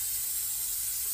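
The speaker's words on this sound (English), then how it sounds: "I'm going to give it a quick spray" A short, steady hiss of a low-odor workable fixative aerosol sprayed onto a pastel drawing, soft and close, with no talking.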